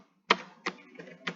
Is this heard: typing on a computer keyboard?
yes